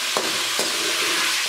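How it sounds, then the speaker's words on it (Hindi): Chicken frying with spices in a pan while being stirred with a spoon, a steady close sizzle with two brief scraping strokes of the spoon, no talk. "थोड़ी थोड़ी देर बाद चम्मच चलाते हुए मैं इसको फ्राई करूँगी।"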